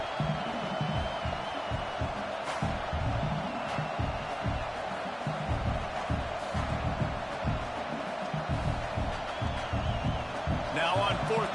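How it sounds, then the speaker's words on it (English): Stadium crowd roar in a college football video game as the field goal team lines up on fourth down, a steady dense wash of noise with scattered louder swells throughout, no voices standing out. "This crowd trying to do its part to get inside the kicker's head."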